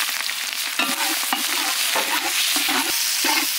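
Green chillies and onions fry loudly in oil with cinnamon, cardamom, cloves and star anise for chicken biryani, a close, vigorous sizzle punctuated by repeated rough stirring scrapes.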